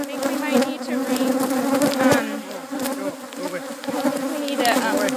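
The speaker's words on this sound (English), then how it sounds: "I'm taking this video so you can see how many bees there are" A dense swarm of Africanized bees buzzes close to the microphone, a thick, steady drone of many insects rising and falling slightly.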